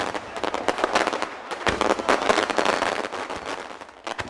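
Firecrackers bursting at a Cuban Christmas festival, dense rapid cracks and pops overlapping continuously in a loud outdoor crowd setting, with faint voices mixed in.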